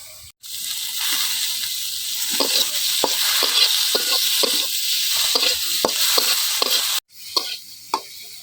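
Fish frying in hot oil with turmeric and chili, a steady loud sizzle with repeated stirring scrapes and clicks, briefly cut off near the end before the crackle resumes.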